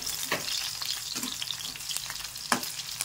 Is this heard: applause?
no